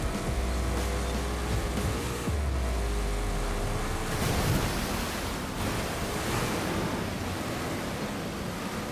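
A 2024 Ford Mustang Dark Horse in Forza Horizon 5 ploughs through a deep river, a steady loud rush of churning water and low engine drone with no talk, the roar dipping briefly partway through before building again.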